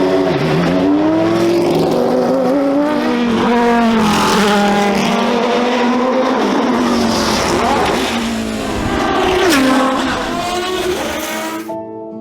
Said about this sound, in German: The sound of that V10 was stunning